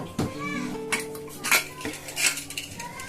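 A spoon clatters and scrapes against a metal pot while methi chana is stirred, with several sharp knocks and rattles in a close, irregular burst and no talking.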